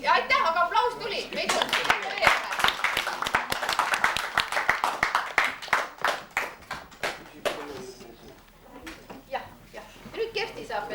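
Applause from a gathered Estonian audience at a local event, dense sharp claps close by, loud at first and then thinning into scattered, irregular claps with murmured chatter underneath.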